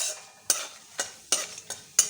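Cumin seeds crackle as they temper in hot oil for a jackfruit kofta curry, with several sharp sizzling bursts spaced about half a second apart over a softer frying hiss, close and moderately loud, with no voices.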